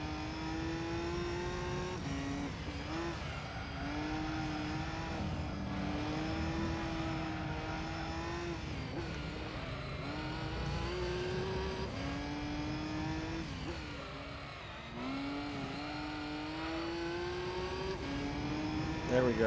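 Race car engine in Gran Turismo 3, a loud continuous tonal drone that rises and dips as it revs and shifts through a downhill hairpin, with brief braking dips, heard throughout without pause.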